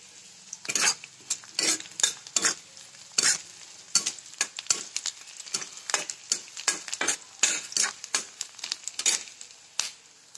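Onions frying in a home kitchen pan while being stirred for a Maharashtrian seasoning, with steady sizzling broken by repeated scraping, clinking strokes of a spoon against the pan, close and fairly loud.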